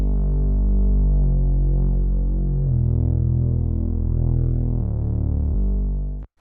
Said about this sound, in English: And then we use this bass sound later in the song that sounds like this.